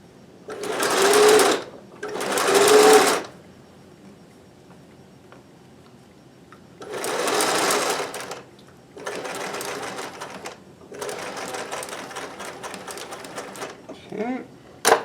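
A home sewing machine stitching fast, pushed toward 2,000 stitches per minute while sewing a gift for a father, runs in several loud, close bursts of rapid mechanical whirring separated by brief pauses.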